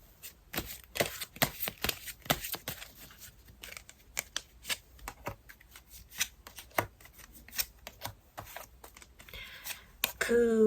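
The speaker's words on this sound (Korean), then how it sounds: "조금 더 추가 카드 뽑아보겠습니다." Tarot cards shuffled and drawn by hand: a dense series of quick, crisp riffling and flicking bursts close by, with a louder rustle of cards at the end.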